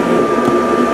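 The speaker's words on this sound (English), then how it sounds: "Got the tow board carpet being cut now." Gerber automated cutting machine slicing carpet for an early Porsche 911 tow board, a steady whirring mechanical drone with a sustained tone, close and continuous for about a second.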